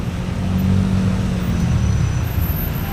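Evening road traffic near Banilad, close to San Carlos, with cars and other vehicles creeping in a jam; a steady low rumble of engines and tyres, moderately loud and continuous with no talk.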